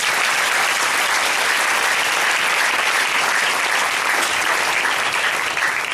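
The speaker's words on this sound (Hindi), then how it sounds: "ताली बजाएंगे।" A congregation claps together at a Sunday church service, a loud, dense and steady wall of applause that fills the room with no break for the whole stretch.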